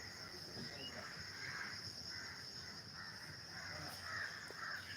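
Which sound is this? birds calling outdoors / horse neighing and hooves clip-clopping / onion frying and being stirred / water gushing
birds calling outdoors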